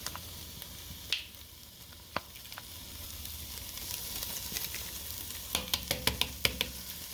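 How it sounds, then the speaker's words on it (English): Garlic cloves sizzle in a pan with carrots for shepherd's pie, a soft continuous frying hiss broken by scattered clicks and scrapes of stirring that grow busier toward the end. "now we're going to add 4 cloves of garlic"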